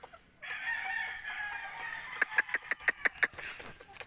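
Chickens in a backyard coop, with a long, loud rooster crow followed by a quick run of sharp, rhythmic clucks from nearby birds and no speech.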